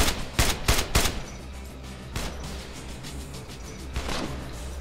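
Rapid bursts of gunfire from a weapon in the video game State of Decay, several loud close volleys at the start, then scattered shots over a dense, noisy game soundscape, with no talk.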